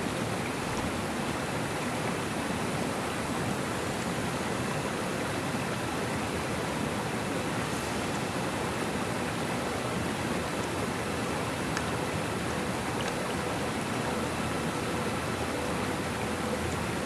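A waterfall roars in the video game Legendary Tales, a steady, dense rushing wash of falling water that holds unchanged throughout.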